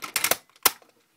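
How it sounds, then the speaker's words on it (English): Plastic toy model pieces of a Gokaiger Pat Striker mecha click and snap together in a quick cluster of sharp, close snaps, followed by a louder single snap and a faint tick. "Keep working it in until you hear a snap."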